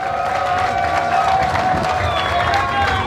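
A crowd at a ceremony in Kongo Central for a tractor assembly plant applauds and cheers, a busy mix of clapping and voices with a sustained tonal sound running beneath it, fairly loud throughout.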